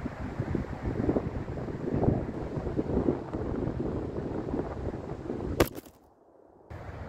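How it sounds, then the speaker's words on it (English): Outdoor wind buffets a camera microphone during a football crossbar-shooting session, a continuous rough rumbling roar that suddenly drops away near the end. "the wind has blown the camera down literally like 2 or 1 time"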